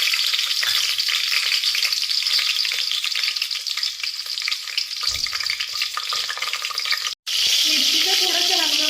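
Chopped green chillies fry in hot oil with a loud, continuous close sizzle and faint stirring, broken by one very brief gap near the end.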